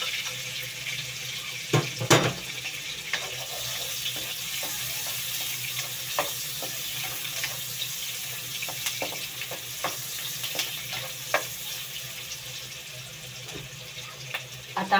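Onion and then garlic sizzle in a hot pan for a savory tokwa and mushroom dish, a steady frying hiss broken by a few sharp clinks and stirring scrapes, with soft murmuring at times.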